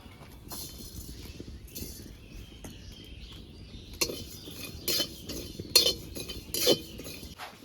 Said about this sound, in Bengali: এবারে গোটা জিরেগুলো ভেজে নেব।